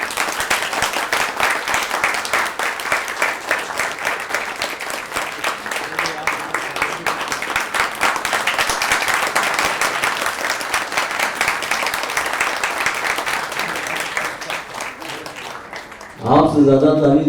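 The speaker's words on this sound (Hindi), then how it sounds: "आपसे ज्यादा ताली तो ये लोग बजा रहे हैं, आप लोग बजा दीजिए।" Theater audience clapping at a Hindi stage play, Dil Ki Dukan: sustained, dense applause from a full house that slowly eases, then gives way at the end to a louder, closer burst of other sound.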